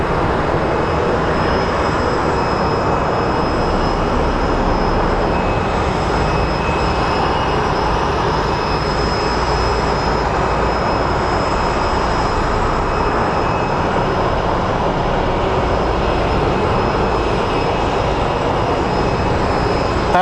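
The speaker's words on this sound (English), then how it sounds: "the 777's about to take off" A Boeing 777 airliner takes off at Phoenix Sky Harbor Airport, a loud, steady roar of jet engines that holds at a constant level throughout, with no voices.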